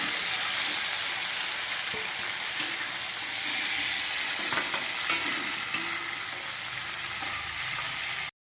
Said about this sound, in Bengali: মাছগুলো হালকা ভেজে নিলাম